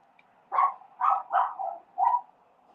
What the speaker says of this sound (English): if you can hear that, that's Teddy barking at something.